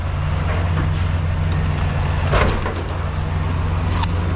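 A truck idles close by with a steady low diesel rumble, short hissing air-brake bursts breaking through at moments, with no talking over it.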